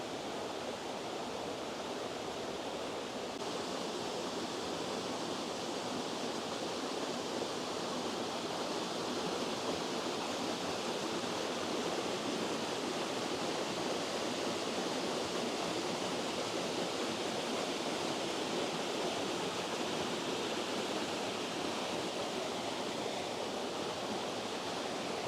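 Near the top of a waterfall in Dhoon Glen, Isle of Man, rushing water roars in a dense, unbroken wash of noise that holds steady and loud throughout, with no talking.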